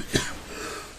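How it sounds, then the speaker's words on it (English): A single short, harsh human cough with phlegm breaks out near the start, close and fairly loud, then fades into quiet room noise. "I think it's the same kind of cough we have."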